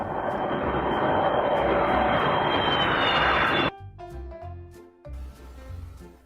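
A fixed-wing airplane roars steadily overhead for several seconds, loud and broadband, then cuts off abruptly into quiet tonal sounds.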